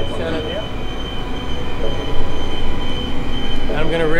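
A train rolls past loudly and close, its wheels squealing in high wavering tones over a heavy rumble.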